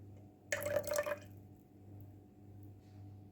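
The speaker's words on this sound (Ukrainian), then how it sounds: "Вичавлюю сік одного лимона, точніше, одну столову ложечку." Lemon juice squeezed by hand into a salad dressing of sunflower oil and whole-grain mustard, a short wet burst of dripping and squishing lasting about half a second, followed by a quiet low hum.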